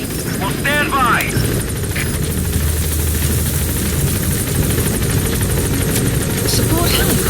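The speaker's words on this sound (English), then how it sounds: "Support helicopter has arrived." Support helicopter arriving at a landing zone in Metal Gear Solid V: The Phantom Pain, loud and close with steady rotor thrum and engine whine, brief radio-style voice chatter near the start.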